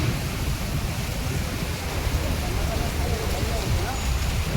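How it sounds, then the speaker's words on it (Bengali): A heavy outdoor storm with strong wind and driving rain during a power outage, a constant dense roar of rain and gusts filling the whole clip at high loudness. "প্রচণ্ড পরিমাণে হাওয়া, বৃষ্টি, ঝড়।"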